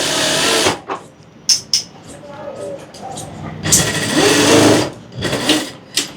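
A sewing machine stitching the sleeve of an embroidered jacket, running in short bursts of rapid mechanical whirring with pauses between, close and loud, while a person speaks in between runs.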